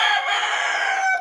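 A rooster crowing loudly and close by in a farm chicken coop on a freezing winter day, a single strained cock-a-doodle call lasting about a second.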